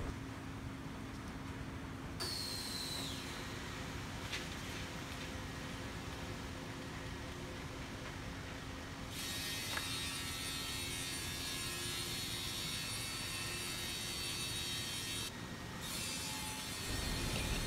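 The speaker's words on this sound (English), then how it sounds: "we will use this CNC machine to cut in the four edges of MGO board according to customer's requirement size" CNC machine cutting the four edges of MgO boards on a production line, a continuous loud mechanical grinding and whirring with steady broadband noise and brief shifts in pitch as cutting passes change.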